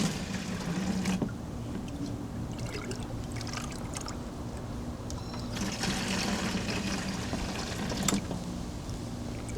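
Compost tea being poured into a watering can in a home garden, a steady splashing trickle of liquid running for several seconds with brief louder gushes, close to the microphone and without talk.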